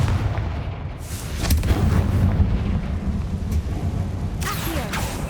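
A Confringo blasting spell in Hogwarts Legacy goes off with booming, artillery-like explosive bursts over a rumbling low roar, followed by a sharp crackling blast near the end.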